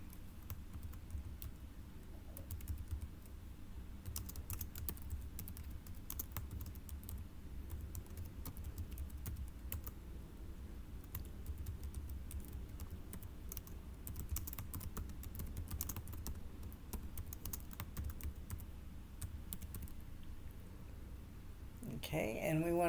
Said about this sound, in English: and then I'm going to type in the heading.